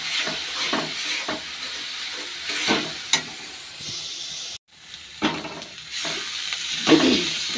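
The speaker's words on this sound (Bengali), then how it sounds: "তো এখন এটা ভালো করে কষিয়ে নিই রসুনটা।" Garlic and spices frying in a pan, a crackling sizzle broken by repeated scraping stirs of a spoon, close and fairly quiet, with one brief pause midway.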